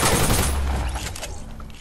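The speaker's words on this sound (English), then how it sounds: "There's another sniper!" Rapid burst of gunfire in a Fortnite match, loud and close at first, then trailing off into scattered echoing shots.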